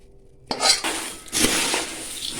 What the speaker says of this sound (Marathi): आता ही फोडणी त्याच्यामध्ये मी ओतून घेणार आहे